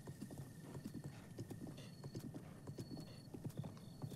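A horse galloping in the open-world game Breath of the Wild, with fast, steady hoofbeat clip-clops repeating throughout at moderate loudness and occasional light mechanical ticks, without talk.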